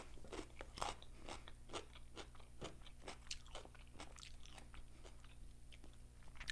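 Raw carrot sticks served at a Buffalo Wild Wings restaurant are bitten and chewed, giving repeated sharp crunches in an irregular rhythm over a quiet background, close to the mouth.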